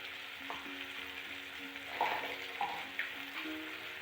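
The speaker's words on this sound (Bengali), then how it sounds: "সব মশলাগুলো একটু কষিয়ে নেবো।" Ground spices, among them coriander, cumin and turmeric, sizzle softly in oil in a pan as they are stirred, with a few light scrapes and clinks over a steady hiss, no talking.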